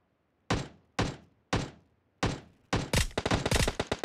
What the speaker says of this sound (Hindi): कहाँ से हो रही है फायरिंग ये?